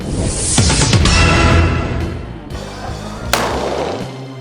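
Firearm shots at a fun shoot event for medical practitioners: loud sharp gunfire bursts with echoing decay, a couple of distinct reports standing alone.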